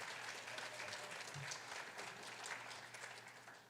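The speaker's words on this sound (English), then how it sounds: "let's have one round of applause for all the new folks that have joined us" Staff audience at a student affairs all-staff meeting applauds new colleagues, a quiet, steady patter of clapping from a mid-sized room, heard at some distance for a few seconds with no talk over it.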